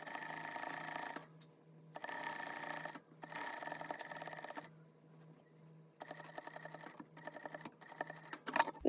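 A sewing machine stitching fabric for a tie top chest piece, running in several bursts of a second or so each with short pauses between, close and moderately loud, a faint steady hum underneath.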